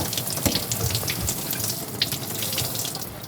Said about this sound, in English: Accidentally just turned the water on.